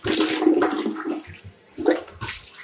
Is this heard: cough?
no